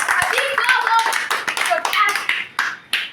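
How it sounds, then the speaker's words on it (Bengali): Hand clapping at a sister's birthday celebration, a quick irregular burst of claps mixed with voices, ending in a few louder separate claps. "জোরে একটা হাততালি হোক।"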